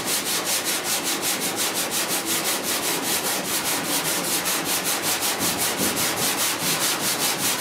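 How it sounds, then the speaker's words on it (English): 80 grit sandpaper on a block rasping over body filler on a 1966 Ford F100 cab rear panel, loud rhythmic back-and-forth strokes repeating steadily about four times per second with no talk. "We hit it with some 80 grit now."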